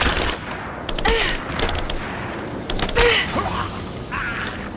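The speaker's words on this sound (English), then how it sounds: "I'm taking fire!" Rapid bursts of gunfire in the video game Rise of the Tomb Raider, loud and close, with clusters of shots and sharp mechanical clacks repeating over several seconds and no talk.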